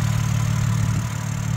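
A 2023 BMW M2 engine idles steadily while warming up, a close, even low rumble with a faint knocking pulse and no talk.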